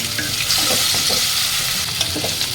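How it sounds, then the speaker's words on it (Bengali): Chopped onion fries in a pan of hot oil left from frying bata fish, hissing and sizzling steadily up close while a spoon stirs and scrapes through it. "একটু লালচে করে ভেজে নেব পেঁয়াজটা"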